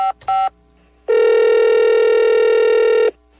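A telephone is dialed for a radio prank call: a few quick keypad tones, then one long, steady ringing tone alone on a quiet line.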